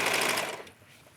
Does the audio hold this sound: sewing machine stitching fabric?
yes